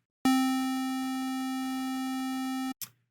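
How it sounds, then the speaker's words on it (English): A single sustained square wave synth tone from FL Studio, bright and buzzy with a dense stack of harmonics, holds steady for about two and a half seconds and then cuts off abruptly, followed by a short click. "Starting with a square wave"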